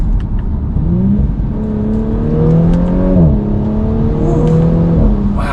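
A 2019 Audi S4 pulls hard from inside the cabin, its muted engine and exhaust note climbing in pitch, dropping at quick shifts and climbing again, smooth and steady under road noise with no talking.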